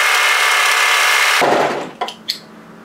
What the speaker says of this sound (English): I'd like you to overlock secure that edge, but make sure you can see the notches through